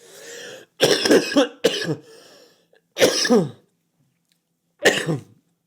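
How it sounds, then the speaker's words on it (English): Harsh, close coughs come in a quick cluster of three, then two more single coughs after short pauses, loud and with no talking. "Just need to cough like 7 times quickly."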